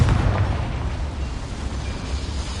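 A Confringo spell explodes in Hogwarts Legacy, giving one loud, deep blast at the start that rolls on as a rumbling low roar and slowly fades, with no talk over it.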